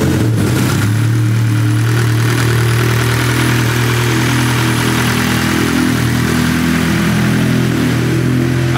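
A 400hp K20/K24 engine idles in a nitrous EG hatch build, a loud steady raspy exhaust drone close by with a slight rev at the start.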